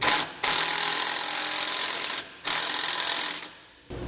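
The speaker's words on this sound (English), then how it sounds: "We'll come back with a 9/16 socket and wrench and snug it down" A 9/16 socket and wrench ratchet steadily while snugging down base plate bolts on a 2022 vehicle, in three long runs of buzzy clicking separated by short pauses.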